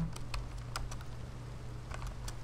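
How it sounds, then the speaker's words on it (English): Clicks from a computer keyboard come in short, irregular bursts of keystrokes over a steady low hum, close and fairly faint, while typing a word into a Minecraft game. "If I can type pumpkin."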